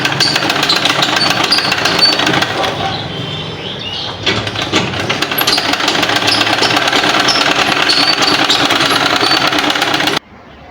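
A sewing machine stitches a garment's shoulder and neckline seam with a loud, continuous mechanical whirring rattle that runs steadily for about ten seconds and then stops abruptly.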